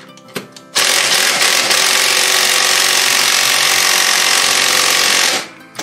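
A power tool, likely an impact wrench, runs in one loud continuous burst of about five seconds while tightening a rear wheel on an MTD yard tractor, after a few brief clicks and handling sounds.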